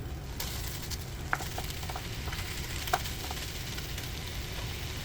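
Ground beef for Texas chili frying in a hot pan, a steady close sizzle and crackle running throughout with a couple of brief clinks from a utensil or the pan.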